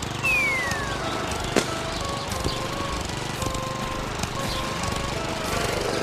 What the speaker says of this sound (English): Lawnmowers make a lot of air and noise pollution.